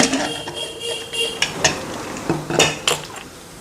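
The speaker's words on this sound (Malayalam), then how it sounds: "അപ്പൊ നമുക്ക് കുക്കറൊന്ന് തുറന്ന് നോക്കാം" Metal pressure cooker being opened after cooking rice, with a series of sharp clanks and scrapes of lid and metal utensils, several distinct knocks spaced irregularly, close and moderately loud.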